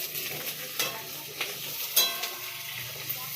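Tomatoes stirred and fried in hot oil for khichuri, a short burst of sizzling with a few quick spatula scrapes, close and fairly quiet.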